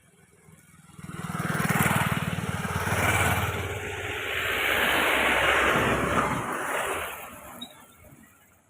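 Heavy road traffic heard while walking outside, a steady wash of engine and tyre noise from several passing vehicles, rising and falling over several seconds, fairly near and without speech.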